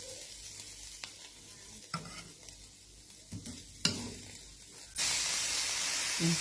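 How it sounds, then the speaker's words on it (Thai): Som khai pla, a fermented fish roe, is stir-fried in a pan. Close sizzling comes with intermittent scraping stirs, then a sudden loud, steady hiss of frying takes over. "วันนี้ยามาจะมา คั่วส้มไข่ปลานะคะ"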